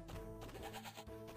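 A short goat bleat from the Crash Bandicoot Warped video game, a quiet, wavering nasal cry lasting about a second with a faint thunk.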